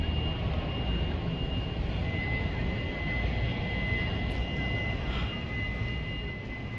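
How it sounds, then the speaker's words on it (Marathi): A pushback van tows an airliner across the tarmac at an airport, a steady rumbling roar of engines and machinery heard from nearby, continuous and without talking. "त्याच्या खाली ती व्हॅन लागलेली आहे, पुशबॅक व्हॅन. ती त्या जहाजाला घेऊन चालली आता."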